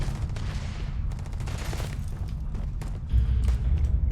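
Bursts of gunfire in a video game, a rapid volley of shots followed by heavier booming thuds near the end, loud and close, with no talking.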